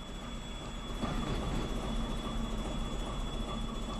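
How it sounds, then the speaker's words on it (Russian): A Russian Railways (RZhD) train rolls past steadily in Minecraft, a dense, continuous rumble of wheels and carriages with faint high tones, close and loud, with no speech. "Это просто поезд РЖД."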